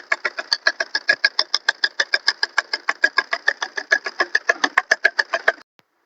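A sewing machine stitches around the back neckline of a short top with a fast, steady mechanical chatter of regular clicks, close and loud, before stopping abruptly.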